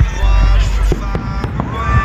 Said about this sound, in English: Look at all those fireworks!